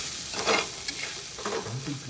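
Salted onion stirred and sautéed in a pan for a cashew nut curry, with steady sizzling frying and a few scraping spoon strokes close by, no voices over it.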